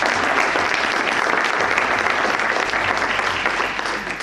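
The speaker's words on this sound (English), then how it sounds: "That deserves a round of applause." Dense, sustained applause from a crowd on a wholesale house investing bus tour, many hands clapping at once in a loud continuous wash that tapers slightly at the end.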